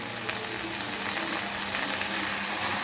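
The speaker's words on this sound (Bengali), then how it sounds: "এবার জল দিয়ে দেব।" Water meets a hot pan of fried spice masala for a soybean and paneer curry, giving a dense, steady sizzle and bubbling hiss, close and loud, with no talk.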